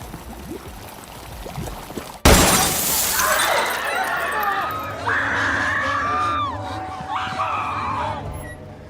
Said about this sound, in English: puts some empty glass bottles inside a deep fryer